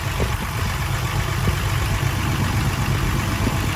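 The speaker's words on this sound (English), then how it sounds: "we've been sitting here for about an hour, letting it idle" A car engine idles with a low, steady rumble that holds constant throughout, fairly quiet and close, with no voices over it.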